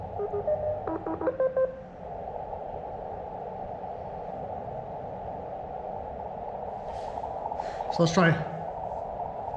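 Faint radio hiss with brief keyed tones from an amateur QRP station hunting CW Morse signals during a park activation at Filmore Glen State Park, heard under a man's speech and tuning noise.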